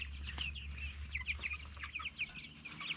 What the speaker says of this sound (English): these are pretty good, strong birds